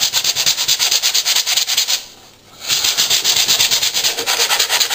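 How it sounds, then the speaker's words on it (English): Sandpaper rubs back and forth over filler on a wooden skirting board in quick, even strokes, close and loud, with a short pause partway through. "Sand your filler."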